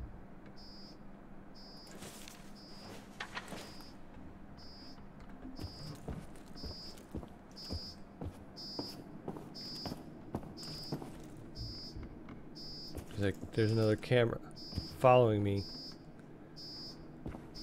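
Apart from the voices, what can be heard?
alarm beeping in video game Paradise Lost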